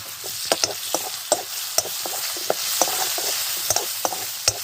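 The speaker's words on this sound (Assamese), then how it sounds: "আলুকেইডোখৰ দি অলপ ফ্ৰাই কৰিছোঁ" Potato pieces with turmeric frying in hot oil in a pan for a fish and dal dish, a steady sizzle broken by sharp pops and stirring clicks, close and alone.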